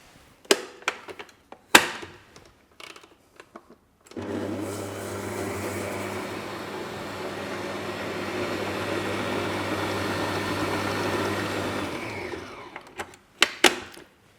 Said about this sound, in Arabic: في وعاء الخلاط أنا حطيت الزبدة والسكر، وبستعمل مضرب التقليب، وحبتدي أشغل